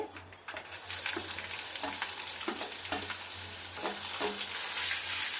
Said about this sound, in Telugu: ఇప్పుడు ఉల్లిగడ్డలు వేస్తున్నానండి.